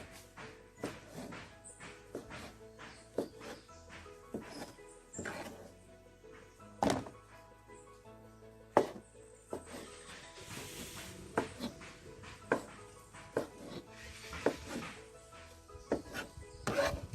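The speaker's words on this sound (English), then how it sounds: "So I'm just slicing them." A kitchen knife slices through food during cooking, producing a run of close, quiet thunks against a wooden board, with irregular strokes, brief pauses and soft rubbing between cuts.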